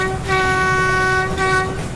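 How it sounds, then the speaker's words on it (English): A train rolls across the stone Landwasser Viaduct in Switzerland at low speed, its horn sounding a long steady tone that breaks briefly and resumes over a continuous rumble of wheels on the bridge. "trains travel across the bridge with minimal speed"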